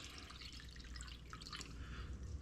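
Two cups of water are poured for a pancit sauce, a faint, steady trickling and dripping of liquid heard alone without talk.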